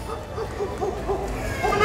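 A small dog yips and barks repeatedly at an outdoor car auction, fairly close amid crowd noise and background chatter.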